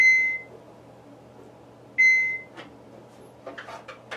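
Two clear electronic beeps about two seconds apart from an AlkaViva H2 water ionizer during a filter counter reset, followed by faint clicks and handling sounds nearby.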